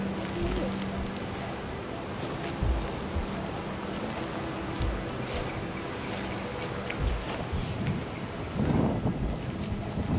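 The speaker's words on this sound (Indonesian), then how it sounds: "Semakin kami menghampiri kawasan makam pada pokok besar itu, tiupan angin semakin kuat." Strong wind blows across a hill near an old tomb and a large tree, buffeting the microphone in loud gusty rumbles with intermittent thumps and swells throughout.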